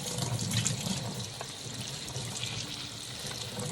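Cold water runs steadily from a tap while vegetables are rinsed under it, with a close, continuous splashing and no voices.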